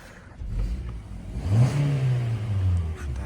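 A car engine revs up and holds a steady mid-pitched drone, loud and close, with no talking.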